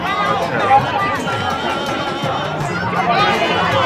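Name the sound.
crowd chatter at the Vaishno Devi pilgrimage entry gate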